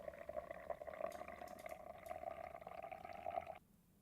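Fuel draining from the sump of a Piper Comanche in MSFS 2020, a steady close trickle of liquid running for about three and a half seconds before stopping abruptly.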